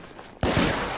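Heavy gunfire in a firefight from the video game The Order 1886: after brief quiet, a sudden loud burst of rapid shots erupts and continues as a dense, sustained barrage.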